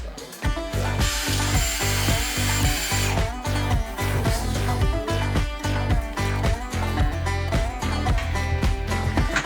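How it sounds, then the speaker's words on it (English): Power drill with new bits boring into hard concrete during a mini split heat pump install, a loud steady grinding drone broken by rapid rhythmic pulses from the hammer action, close up with no voices. "Got new drill bits. Going through the concrete now."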